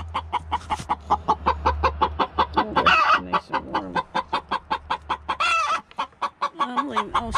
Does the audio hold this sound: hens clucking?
yes